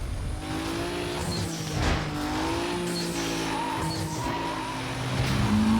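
Race car engine in Need For Speed Most Wanted, a loud, continuous high revving drone with gear-shift pitch sweeps and screeching tire squeals as the car speeds along, steady and close throughout with no voices.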